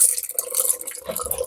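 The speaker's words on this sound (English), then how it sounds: "just take your stuff and pour it through your sieve like so" Watermelon juice being strained of its seeds for jam, poured through a sieve, gives a steady close trickle and splatter of liquid running continuously with no voices.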